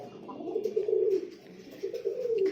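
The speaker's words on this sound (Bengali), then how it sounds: "এগুলো হচ্ছে সব গিরিবাজ আর দেশি কবুতরের বাচ্চা" Young Giribaz and local pigeons coo in a loft, a soft low warbling that swells twice, close and steady, with no talk over it.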